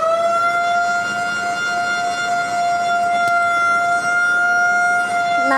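A fire truck siren from the Belitung fire and rescue service wails loud and close as one steady, sustained multi-tone blast that holds level for several seconds with no voices.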